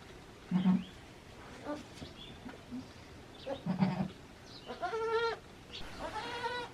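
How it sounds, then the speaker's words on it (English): A newborn baby goat on a farm bleats several times in short, separate calls, the last ones louder and more drawn out, with light background noise between them. "What do you think about the baby goat?"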